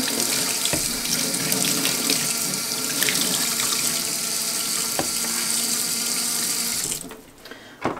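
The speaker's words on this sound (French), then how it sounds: "Donc là on vient rincer. Le rouleau, il est propre en fait" Tap water gushes steadily from a faucet over the roller of a floor cleaner being rinsed, a close, continuous rushing stream that cuts off near the end.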